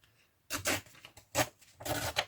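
Paper being torn by hand while making faux stamps, heard as three separate ripping bursts close up, each a rough rasping tear lasting a fraction of a second, with quiet pauses between them.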